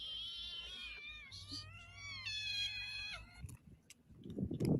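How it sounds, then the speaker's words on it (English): Small kittens mewing outdoors in a string of high, thin, wavering cries close by, followed by a few softer rustles and knocks at the end. "and I love kittens. Kitties. Oh, look at the babies."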